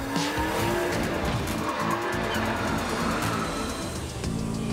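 Cartoon toy cars race, with loud, sustained tire squeals and skidding over engine noise, all continuous and close.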